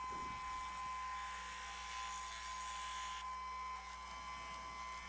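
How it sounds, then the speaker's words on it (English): A wood lathe bores a mortise with a Jacob's chuck, holding a quiet, steady whine and hum near the microphone that shifts slightly partway through. "Use my Jacob's chuck to create the mortise."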